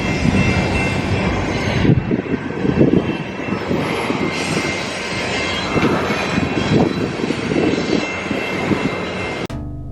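A long freight train rumbles steadily past close by near a riverside in Burlington, Iowa, its loud continuous roar and wheel clatter filling the scene before cutting off abruptly at the end.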